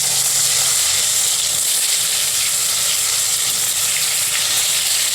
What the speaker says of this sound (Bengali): বন্ধুরা তেল গরম হয়ে গেছে, আমরা এক এক করে এবার পটলগুলোকে তেলের মধ্যে দিয়ে দিচ্ছি।